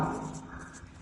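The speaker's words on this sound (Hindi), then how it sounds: "अब देखिए थोड़ा सा हम लिखेंगे" Hand writing on paper during a class 10 mathematics lesson, a soft continuous scratching of the pen close by with faint room tone and no speech.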